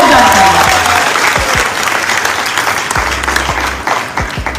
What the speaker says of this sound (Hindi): मैं चाहती हूँ एक बार जोरदार ताली संजीव सर की, जोरदार ताली।